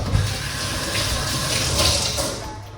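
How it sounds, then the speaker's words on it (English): Running tap water pours steadily into a sink as beetroot juice is rinsed off hands, a close, continuous gushing stream with slight splashing changes as the hands move under it. "Let's rinse off this."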